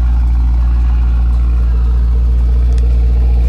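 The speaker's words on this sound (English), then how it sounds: "It is in race mode with the exhaust valves open." A 2021 Mercedes-AMG GT63s with 21,000 miles, in race mode with its exhaust valves open, idles with a deep, steady rumble, loud and close, holding an even drone throughout with no voices.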